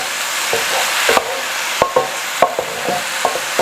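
Fried rice with soy sauce in a hot pan, a constant loud sizzle broken by a series of sharp utensil scrapes and clacks against the pan, close and without talk.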